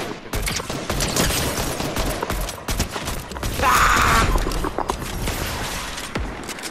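Heavy assault rifle fire in Fortnite rattles in rapid, uneven bursts of sharp shots throughout, loudest in the middle, with other game noises mixed in.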